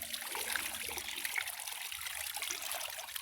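Water steadily trickles and splashes as a seine net's catch is emptied into a tote half full of water at Samish Bay, a continuous close, hissy pouring with no talking.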